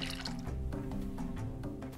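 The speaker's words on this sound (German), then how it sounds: "Geht das mit dem Gießen jetzt wieder los?" Watering crops in the farming game Sun Haven gives a short run of liquid splashing and dripping, several quick watery pulses over two seconds, moderately loud with no talking.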